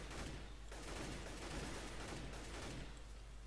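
Counter-Strike: Global Offensive gameplay in a custom mode with a steady wash of distant rapid gunfire, sustained and fairly faint throughout, with no clear individual shots standing out.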